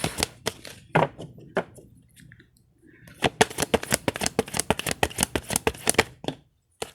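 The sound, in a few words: shuffling a deck of unicorn oracle cards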